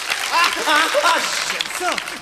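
Audience applause crackles steadily in the background while a voice speaks over it.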